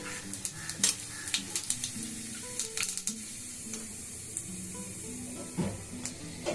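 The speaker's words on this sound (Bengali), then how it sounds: "এখন আমি দিয়ে দেবো 2টো তেজপাতা, একটু জিরে" Bay leaves and cumin seeds crackle and sizzle in hot oil left from frying potatoes, a steady close hiss broken by sharp pops and the clink of a utensil against the pan, with no talking.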